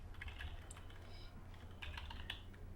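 Someone types a folder name on a computer keyboard: a few quiet, close key taps in short irregular bursts over a low background hum.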